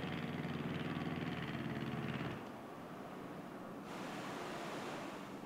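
A plane settles onto the water in an island flyover video game, a loud broadband rush of surf and engine that suddenly cuts to a softer, steady wash of wave and wind noise.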